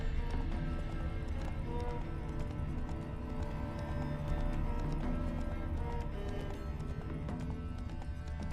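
Hooves of Roach the horse in The Witcher 3 beat out a continuous, even clip-clop close by, layered over a dense game background, with a faint whinny somewhere in the mix.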